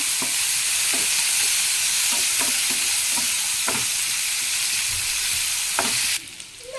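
Crushed garlic and green chillies sizzle in hot oil in a pan while a spoon stirs them, with a constant frying hiss broken by several sharp scrapes. The sizzle drops away near the end.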